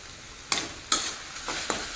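Garlic spinach being stir-fried in a pan, with a steady sizzle and four or five sharp scraping strokes of a spatula against the pan. No voices.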